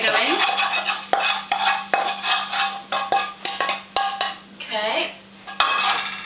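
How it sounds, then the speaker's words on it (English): Stuffing ingredients, including onions and bacon, are stirred together in a big bowl with a utensil, giving repeated scraping, clinking and rustling strokes that stay close and fairly loud, with one brief spoken word. "put everything all in one big bowl and mix it up"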